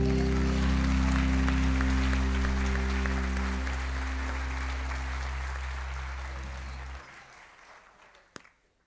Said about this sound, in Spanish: ¿Qué tal si lo recibimos con un aplauso?